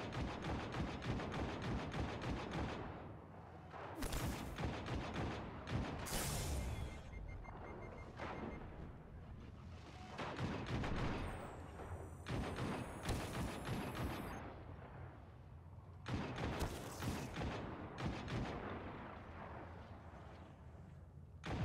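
Repeated gunfire in the shooter Destiny 2, dense bursts and heavy booming shots close and loud, with sustained volleys across the whole stretch and no voices.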